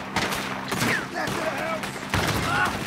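Shotgun fire in Red Dead Redemption 2 booms out in a dense, chaotic gunfight, several loud blasts overlapping with other gunfire and effects, with voices shouting throughout.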